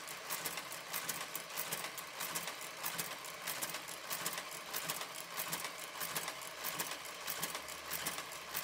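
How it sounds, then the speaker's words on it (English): A Brother KG 95 garter carriage travels along a knitting machine with a steady, fast mechanical patter of clicks and taps, fairly quiet and continuous with no voices. "Let me just stop the garter carriage."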